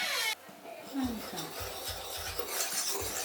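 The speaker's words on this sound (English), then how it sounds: "Whisk it around until well mixed." A whisk scrapes and taps around a bowl mixing dry ingredients with baking soda and salt for an oat recipe, producing faint, irregular rubbing and light clinks close by.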